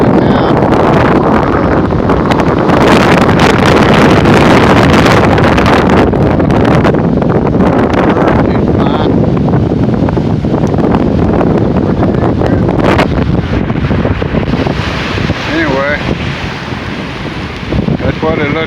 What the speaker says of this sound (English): Wind blowing pretty dang good here.